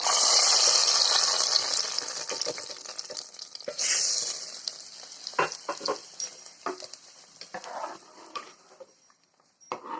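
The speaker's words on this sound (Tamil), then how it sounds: "வறுத்ததை நம்ம பாயாசத்தில் கலந்துக்கலாம்." Roasted ingredients tipped into a moong dal and sago payasam, starting with a loud, hissing sizzle that fades, then followed by irregular stirring knocks and splashes against the pot.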